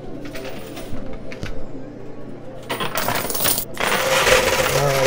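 Quarters cascade and clatter in a high-limit coin pusher machine, a dense metallic jingle that builds and grows louder toward the end, with arcade noise behind it.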